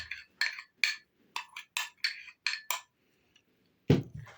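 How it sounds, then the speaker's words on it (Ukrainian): A spoon clinks and scrapes repeatedly against a bowl while mixing onion pie dough, in a quick, irregular series of close taps, with a brief pause and one louder knock at the end. "Замішую тісто спочатку ложкою, а потім руками."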